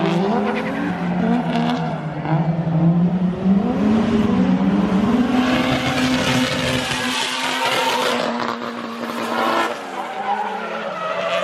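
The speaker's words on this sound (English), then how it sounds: "Are they gonna drift that corner? Yeah, they come in hot, dude." Several cars drifting hard into a corner, loud continuous tire squeal and skidding over revving engines, sustained and close for the whole stretch.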